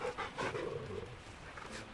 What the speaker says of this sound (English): We should pet the dog.